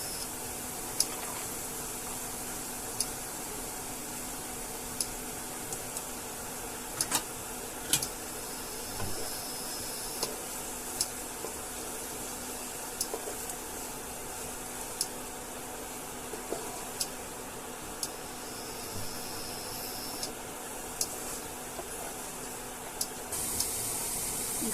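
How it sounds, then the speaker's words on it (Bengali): Carrot, onion and garlic frying in a pan: a faint, steady hiss of sizzling, broken by scattered soft clicks and scrapes of stirring. "গাজর, পেঁয়াজ আর রসুনটা হালকা ভেজে নেওয়ার পরে অল্প নুন দিয়ে দিতে হবে।"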